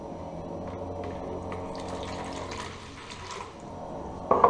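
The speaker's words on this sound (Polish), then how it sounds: "Czysta, zimna woda." Clean cold water pours from a tap into a bucket to mix tile grout, a soft steady splashing and trickling stream that fades near the end before a brief clatter.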